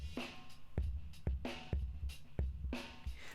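A drum loop squashed by heavy compression: kick, snare and cymbal hits repeat in a steady groove, with pumping, flattened dynamics and an unnatural swell after each hit. The loop plays alone, quiet and close.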